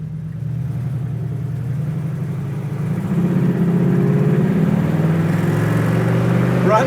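A 1967 Pontiac Firebird Convertible engine runs close by, a steady low idle that rises slightly in pitch and loudness partway through, with no talking.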